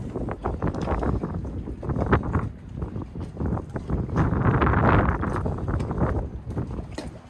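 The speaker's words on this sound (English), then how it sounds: "Sorry for the wind noise." Heavy wind buffeting a camera microphone during a wind storm at a boat dock, loud rumbling gusts that swell and fade throughout, with no talking.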